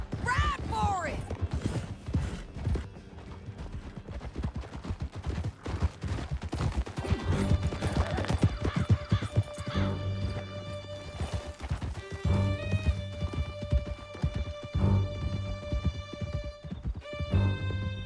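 Galloping horses in the Red Dead Redemption video game, hoofbeats running through a busy, loud game mix with music, crashes and voices throughout.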